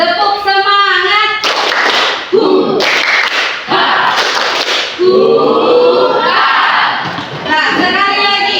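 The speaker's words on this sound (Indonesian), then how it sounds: "Tepuk semangat." Classroom students perform a rhythmic spirit clap, with sharp bursts of clapping in a patterned beat between shouted group chanting, loud and close in the room.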